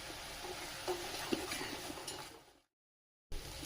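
A masala of garlic, ginger paste and coriander sizzles in a pan with soft stirring scrapes and a couple of light clinks, fading out briefly into a moment of silence before resuming.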